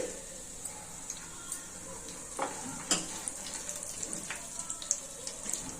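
Dry fruits frying in a pan for beetroot halwa give a faint, steady sizzle with scattered soft clicks and a few louder stirring knocks, heard alone without talk.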